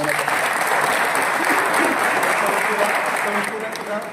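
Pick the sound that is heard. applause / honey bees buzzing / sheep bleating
applause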